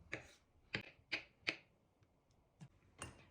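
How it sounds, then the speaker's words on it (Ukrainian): A handful of crisp, quiet knife taps on a cutting board, chopping boiled eggs into cubes, four quick chops, a pause, then two more. "І також нарізаю кубиками."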